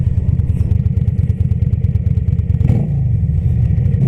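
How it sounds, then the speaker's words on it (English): A cruiser motorcycle engine rumbles loud and close with a steady low throb, then a quick throttle blip near the end sends up a short rev before it drops back to idle. "you just give a little pump of the throttle just to hear that engine noise"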